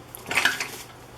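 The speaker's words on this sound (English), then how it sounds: "And then I'll also stir occasionally." A utensil clinks and scrapes against a pot while goat cheese curds are stirred, one brief close metallic rattle on its own.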